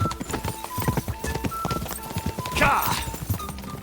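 Hooves clip-clopping in a fast rhythm as a horse races in the video game Kingdom Come: Deliverance 2, with a brief whinny and game sounds mixed in under a voice.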